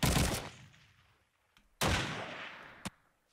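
Gunfire in Call of Duty 2: two loud, sharp shots, each trailing off in a long echoing decay, with a couple of fainter single cracks between and after them.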